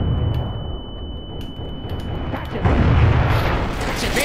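A grenade detonates in Counter-Strike: Source, a booming blast that swells in the latter half over steady game ambience, with a faint tone and light ticking beforehand.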